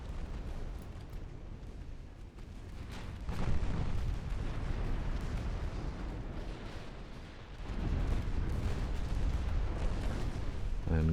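Torpedoes slam into a ship during a 1913-era naval battle game, heavy booming detonations rolling over a continuous rumble of artillery and explosions, with two loud surges of impact noise.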